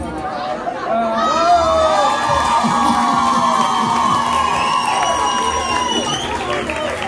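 At a samba school event, a lively crowd cheers and shouts with whoops and chatter, loud and continuous, with some clapping mixed into the roar.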